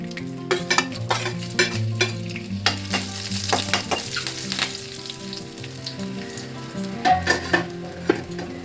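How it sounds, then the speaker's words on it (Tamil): Curry leaves and dried red chillies crackle and sizzle in hot oil in a pan, a loud continuous frying hiss with bursts of popping and a few stirring scrapes throughout. "கருவேப்பிலை நல்லா இந்த மாதிரி பொரிஞ்சதுக்கு அப்புறம் நம்ம காஞ்ச மிளகாய் சேர்த்துக்கலாம்."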